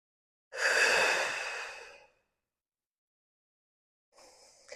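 Long, slow exhale through the mouth during a gentle slow-flow yoga practice, a soft breathy whoosh fading out, then silence and the start of another breath, close and alone.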